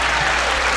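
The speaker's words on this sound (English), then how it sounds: "how about a nice round of applause for a real gamer" Applause from a boxing crowd right after Earl Hargrove wins a middleweight bout over Darryl Penn, dense clapping filling the hall steadily and loudly for under a second, with no voices standing out.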